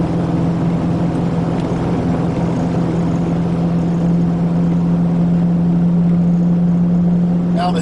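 An RV tow vehicle's engine strains at full throttle, pedal floored around 2600 RPM, while climbing a hill at highway speed. It gives a loud, steady, low drone with a constant hum throughout.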